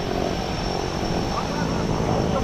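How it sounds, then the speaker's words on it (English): A propeller plane for an Everest trip drones steadily and loudly nearby on the ground before boarding, its engine hum continuous throughout. "This is the plane. Oh my god, just look at it."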